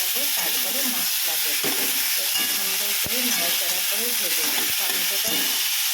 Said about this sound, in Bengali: এখন আমি টমেটোগুলো দিয়ে দেবো একটু করে টমেটোটা দিলাম এই টমেটোটা একটু নাড়াচাড়া করে